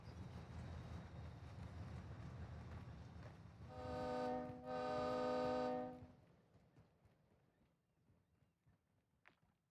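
Two long, loud blasts of a video game train horn, a rich chord of steady tones lasting about a second each with a short gap between, standing out over quieter game background sound.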